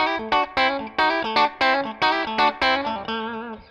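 Twangy electric guitar, a G&L ASAT Special, plays short, punchy chord stabs in a bouncy rhythm, with a bright, slightly driven retro rockabilly tone.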